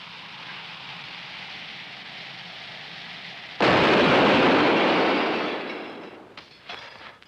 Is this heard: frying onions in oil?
no